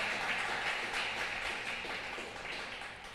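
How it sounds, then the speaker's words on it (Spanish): A church congregation applauds during a sermon, a steady, dense wash of many hands clapping that holds for several seconds and slowly eases off toward the end. "Denle un aplauso al Señor"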